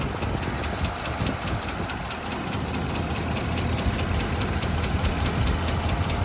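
A rough-running 2001-2004 Chevrolet/GMC Duramax LB7 6.6-litre diesel truck engine runs steadily with a rough, knocking rhythm and constant rattling vibration, close and loud, with no talking.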